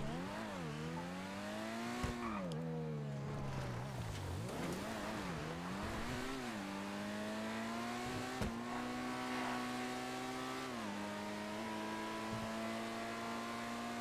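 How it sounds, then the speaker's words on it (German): A car in a video game engine revs and drives, its engine tone rising and falling through gear changes with a steady drone, heard alone and fairly close. "Auto ist so hässlich, aber fährt so gut."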